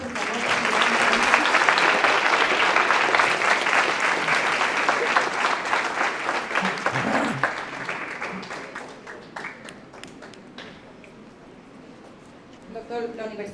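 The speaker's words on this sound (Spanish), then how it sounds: "Un aplauso al doctor Hernández, por favor." An audience at a university conference applauds a speaker, a dense wash of clapping from many hands that holds steady, then thins and fades while a voice speaks over it near the end.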